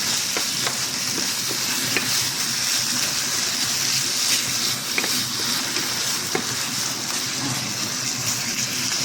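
Steady sizzling of minced beef frying in a pan for lasagna, with occasional scraping and clinks of a utensil stirring it, no talking.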